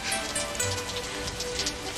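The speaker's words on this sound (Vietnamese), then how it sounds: "cẩn thận mưa ướt đó" Rain falling in an animated cartoon, a dense, even hiss of drops pattering on surfaces for a couple of seconds, with no voices over it.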